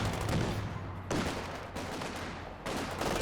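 Sustained MG34 machine gun fire in a Company of Heroes 2 battle, loud dense bursts of rapid gunshots and blasts that swell, pause briefly and resume several times.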